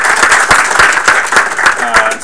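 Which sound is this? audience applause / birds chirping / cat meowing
audience applause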